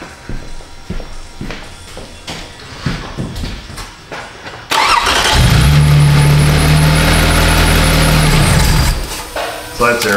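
A Toyota Sienna minivan's engine cranks and catches after soft footsteps and shuffling, then settles into a loud, steady idle close by before easing off near the end.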